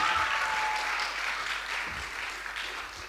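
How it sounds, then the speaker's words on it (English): Audience applause at a school end-of-term performance, a dense wash of clapping that fills the whole stretch and slowly fades a little. "he does deserve a round of applause"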